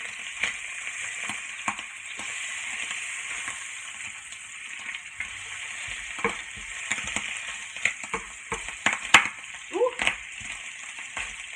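Steady sizzle of egg and bacon frying on a stove for a breakfast sandwich, a continuous hiss broken by scattered clicks and pops of utensils, moderately close with no talk.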